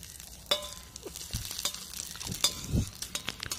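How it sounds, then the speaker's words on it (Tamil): Urad dal and curry leaves crackle and spit in hot oil as a chutney tempering, with scattered close pops and a few light utensil clinks over a soft sizzle. "கொஞ்சமா கருவேப்பிலை சேர்த்து நல்லா தாளிச்சிட்டு"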